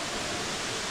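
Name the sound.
waterfall in a canyon at Matthiessen State Park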